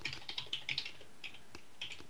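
Keystrokes on a computer keyboard during a live drawing stream, a few quick irregular clicks in short bursts, faint and close with no talk.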